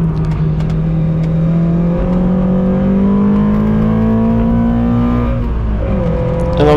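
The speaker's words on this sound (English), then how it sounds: "this is still the first lap, so it was a little bit sketchy, but the car went well" Triumph TR7 race car lapping Sandown circuit, its engine loud and close throughout, with steady revs that rise and fall through the gears on an early lap.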